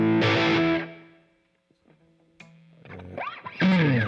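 A Gibson Les Paul Voodoo electric guitar played through heavy distortion, with a thick chord ringing out and fading, a few sparse notes, then bending, squealing lead lines building back to loud, close playing.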